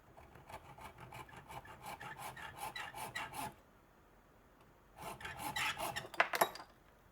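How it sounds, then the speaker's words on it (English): A regular hacksaw cuts a slit into a piece clamped in a vise: quiet, close rasping strokes in a steady rhythm for about three seconds, a pause, then a shorter, rougher run of strokes. "I just have a regular hacksaw. I put it in my vise. I'm going to start to put a slit in it"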